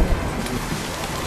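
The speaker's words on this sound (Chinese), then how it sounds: "下雨了，" Rain in the VR flying race game RUSH VR, a dense, even hiss of falling rain filling the short stretch, with no voices over it.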